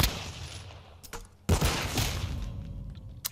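Pistol gunfire in the Modern Warfare 2 video game, a few sharp shots with a loud burst midway, over a busy background of game noise.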